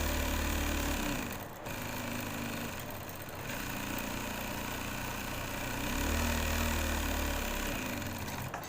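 Sewing machine running steadily while stitching a shirt cuff, a continuous low mechanical whirr with a couple of brief pauses and shifts in speed, no talk.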